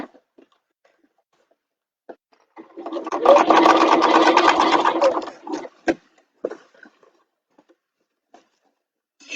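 A sewing machine stitches a bag in one steady buzzing run of about two and a half seconds, framed by faint clicks and handling noises before and after.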